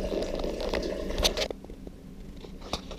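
Cold water poured into a brewing bag for a golden ale, a wet squishing, splashing pour up close that stops halfway, leaving faint drips and small clicks.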